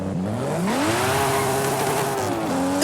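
Car in Forza Horizon 5 floored in first gear without using the clutch, engine pitch climbing as it accelerates, holding a loud strained whine, then dipping briefly before rising again.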